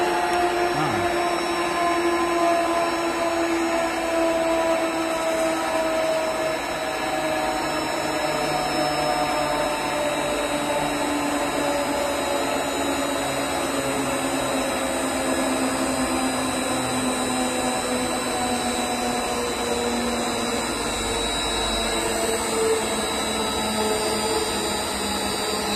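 A 500-litre horizontal ribbon blender runs at top speed. Its steady motor whine and mechanical hum hold without a break, loud and close, with no talking.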